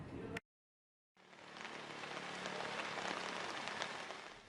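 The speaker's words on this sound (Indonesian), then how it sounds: "Hujan deras yang mengguyur sejak Rabu siang hingga petang" Heavy rain pours steadily over a flooded housing complex street in Kelapa Nunggal, a dense continuous hiss of drops that follows a brief cut to silence and holds at an even, moderate level.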